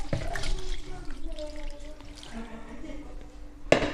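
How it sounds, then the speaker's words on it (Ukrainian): Brine is poured over tomatoes in a lidded container for pickling, a soft continuous liquid splash close by, ending with a brief knock, while someone speaks quietly over it. "Я тепер заливаю помідорчики."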